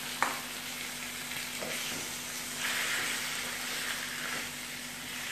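Chicken pieces hit hot oil in a pan for Shinwari karahi, a steady bright sizzle of frying that holds evenly throughout with no talking.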